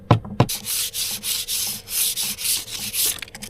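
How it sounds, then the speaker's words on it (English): Rhythmic rubbing strokes on wood, a brisk back-and-forth scraping repeated steadily, close and fairly loud, opening with a couple of knocks. "Give it a wipe."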